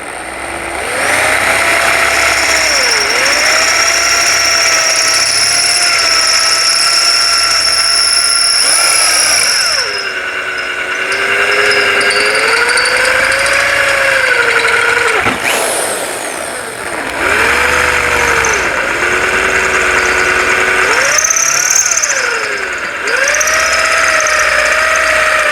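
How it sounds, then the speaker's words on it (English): A power drill with a larger bit whines loudly as it bores out the bumper mount holes on a Yamaha Raptor 700 ATV, in long sustained runs with short pauses and pitch dips under load. "And we'll just drill these out a little bit farther."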